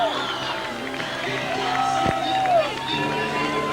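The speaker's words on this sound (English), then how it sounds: "Nice round of applause for Bob Sprott Costle III." A speedway crowd cheers and claps at a moderate distance, a continuous wash of noise under an announcer's voice.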